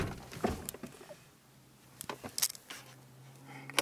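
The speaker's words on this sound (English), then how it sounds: "Close the doors here." BMW E46 M3 car doors shut with several sharp thuds and clicks, close and scattered over a few seconds, with faint rattles in between.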